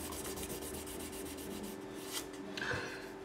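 1200 grit wet and dry paper rubs back and forth over guitar frets, giving a faint, steady, rhythmic scratching swish heard up close with no talk.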